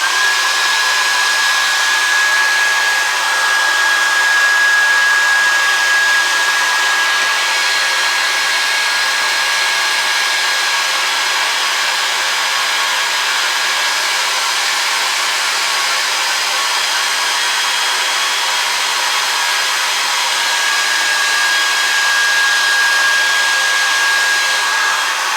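A hair dryer blows steadily and loudly with a constant whooshing roar and a thin high whine, running alone without pause while being used on cocoa during chocolate making.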